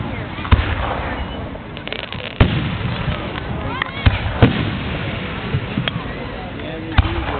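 July 4 fireworks display in Bennington, with repeated sharp booms and pops spaced a second or two apart, some distant crackling between them, and spectators murmuring throughout.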